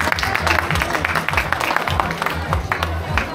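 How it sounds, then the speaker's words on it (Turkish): Wedding guests clap during a henna night and wedding celebration in Trabzon, a dense, steady patter of hands running throughout under loud music and voices. "Alkış, alkış, alkış."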